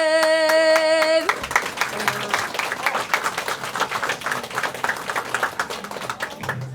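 An audience bursts into steady clapping at a flag lowering ceremony right as a sustained musical note ends, the applause continuing at moderate loudness throughout.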